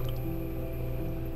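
Watery paint squishes and drips in the SuchArt painting game, a soft continuous wet smear sound with no talk.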